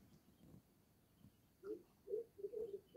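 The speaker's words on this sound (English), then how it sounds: "I never knew that sound was made by these crow peasants." Greater coucal, also called crow pheasant, calling outdoors near dry vegetation: a few deep, hollow, low-pitched hoots repeated in a short series, moderately close but faint against a quiet background.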